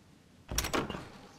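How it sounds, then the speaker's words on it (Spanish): A door closing with a creak in the survival video game H1Z1: a short, sharp double thud with a scraping edge, standing out over quiet background. "No me gusta el crujido de las puertas,"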